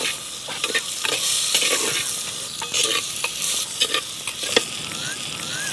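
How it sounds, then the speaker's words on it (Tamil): Boiled raw papaya being stirred and sautéed in a pan for papaya poriyal: a bright frying sizzle broken by repeated spatula scrapes and taps, close and loud with no voices. "இப்போ நம்ம பப்பாளியும் போட்டு லேசாக வதக்கிட்டோம்."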